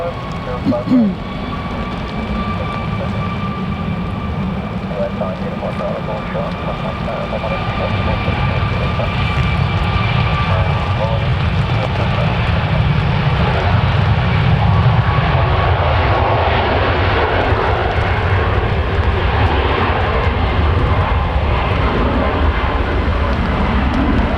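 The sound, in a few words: Boeing 737 airliner at Manchester Airport during Storm Claudia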